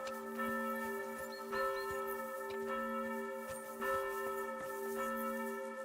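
A church bell in Kingdom Come: Deliverance II rings hard and repeatedly, its rich overlapping tones sustained and ringing on with no pause across the whole stretch, moderately loud.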